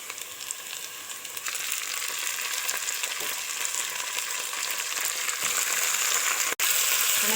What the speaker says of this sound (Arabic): هشوح فيها شويه عشان بس الصوت، وارجع تاني نكمل معاكم